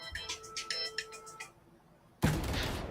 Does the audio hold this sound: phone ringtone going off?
yes